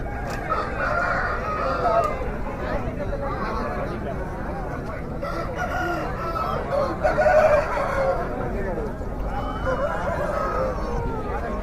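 Country chickens at a rural poultry market in Nallapadu, with a rooster crowing repeatedly and loudly through steady clucking, amid voices and crowd chatter.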